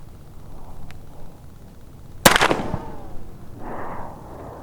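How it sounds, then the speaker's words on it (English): A CVA Wolf 209 Magnum .50 caliber muzzleloader rifle fires one loud, sharp outdoor report that rings briefly into the distance, followed by a faint rustle in a quiet setting. "Once I pull this hammer back, this gun's ready to fire"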